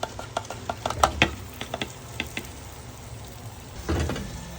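Fenugreek leaves tipped into a pan of cooking potato curry: a quick series of close clattering and scraping stirs over a steady low sizzle, easing into softer frying noise.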